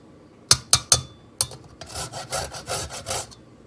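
Whole nutmeg scraped on a grater while baking apple squares: three quick sharp scratches, a pause, another, then a run of longer rhythmic rasping strokes, close and clear with no talk.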